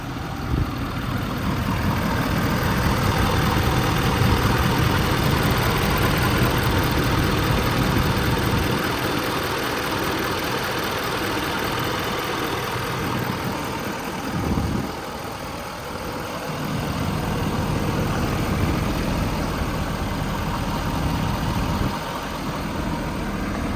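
A steady diesel truck engine idles with a low rumbling drone that holds constant throughout, broadband and close, with brief dips in the low end; a 2015 Ford F550 crane truck with 206k miles.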